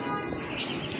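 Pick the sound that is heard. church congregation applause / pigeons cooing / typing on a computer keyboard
pigeons cooing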